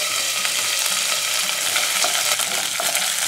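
Garlic cloves and curry leaves frying in hot oil in a pan, a close, continuous bright sizzle and crackle with faint stirring scrapes.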